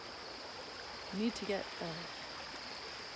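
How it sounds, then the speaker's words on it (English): A stream flows loudly at night, a steady rushing hiss that fills the whole clip, with a brief voice speaking over it midway. "Because the water's generally not this loud."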